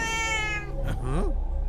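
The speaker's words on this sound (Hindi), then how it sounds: "पहले इस बिल्ली को उठाकर फेंको कहीं" Cat meowing close and loud, a drawn-out wavering cry that rises at the end.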